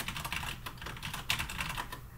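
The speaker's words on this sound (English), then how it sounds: "Excuse me for the clickety clack on my typey keyboard." Rapid, close clicking of keys on a computer keyboard, a steady irregular patter of keystrokes with no talking.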